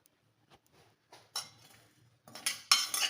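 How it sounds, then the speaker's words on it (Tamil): Rice and lentils are dry-roasted in a pan for a sweet pongal dish, heard as sparse, quiet rattling and scraping of grains against metal that grows busier and louder toward the end. "ஓரளவுக்கு கலர் சேஞ்ச் ஆகிற வரைக்கும் வறுத்துட்டு போகிறோம்"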